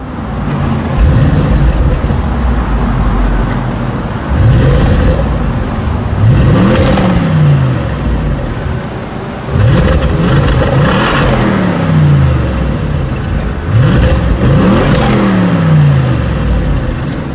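A 2017 Audi S8 Plus engine revs and accelerates on the road in repeated loud surges, rising and falling pitch several times, close and continuous with no talking.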